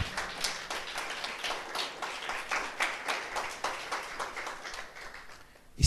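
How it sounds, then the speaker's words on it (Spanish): A congregation at a Sunday morning church service claps together, a fairly quiet and even patter of many hands that stays steady for several seconds and ends with a louder knock. "Dele un fuerte aplauso al Señor esta mañana,"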